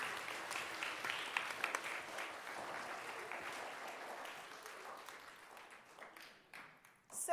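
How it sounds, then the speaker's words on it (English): Audience applause for two volunteers at a school reading and writing event, steady dense clapping from a room of people that holds for several seconds before thinning out near the end. "Round of applause for both my volunteers."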